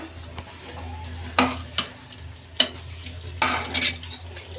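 A spoon stirring pumpkin palya with grated coconut and coriander, giving repeated bright clinks and scrapes against the vessel in an uneven rhythm, close and fairly loud, with no speech.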